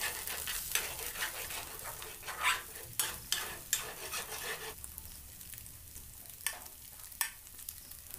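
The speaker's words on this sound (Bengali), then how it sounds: "আর ডিমটা এইভাবে ভেজে নিয়ে" An egg fries in a pan with a steady sizzle, broken by sharp scrapes and clinks of a utensil stirring against the metal, fairly close and without talk.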